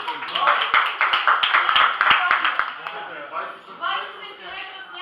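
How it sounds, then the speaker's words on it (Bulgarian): An audience at an indoor diving-club anniversary gathering claps in a dense burst, the sharp hand claps thinning out and giving way to murmured talk toward the end. "аплодисменти са за Софийската секция"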